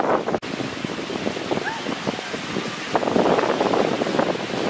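Sea waves wash onto a beach in rough, windy weather, a steady broadband surf roar with wind buffeting the microphone throughout and swelling slightly louder toward the end.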